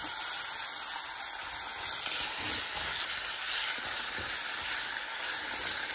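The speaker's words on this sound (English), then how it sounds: "I'm going to add my beef so that it can start to caramelize along with the onions" Beef frying in a pan with onions and garlic makes a loud, steady sizzle heard up close, with light stirring scrapes and no talk over it.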